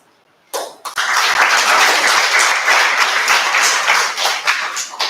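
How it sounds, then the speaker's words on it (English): A Toastmasters club audience in Bangalore bursts into applause for mentors and speakers, a sudden onset of loud, dense clapping from many hands that holds steady for several seconds. "let's applaud all the 3 mentors and all the 3 speakers"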